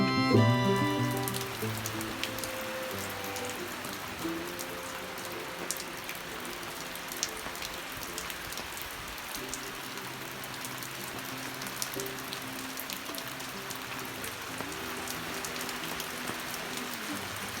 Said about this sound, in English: It keeps raining on